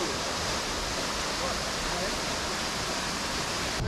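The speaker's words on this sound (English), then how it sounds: "Oh, look at that waterfall" The Double Drive waterfall near a beach pours with a steady, dense hiss of rushing water, loud and unbroken throughout.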